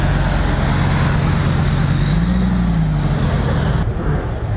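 A first-generation Lamborghini Gallardo drives past in Monaco traffic during Grand Prix weekend, a loud, steady engine hum with a rising pitch swell as it passes, amid general street noise.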